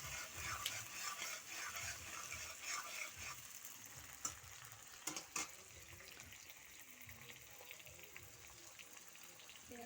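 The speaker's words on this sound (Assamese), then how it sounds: "বৌয়ে ফাৰ্ষ্ট আলু ফ্ৰাই কৰি ল'ব খুজিছে।" Potatoes and onion fry in oil on a home stove, a quiet continuous sizzle with occasional stirring clinks and scrapes, faint and close.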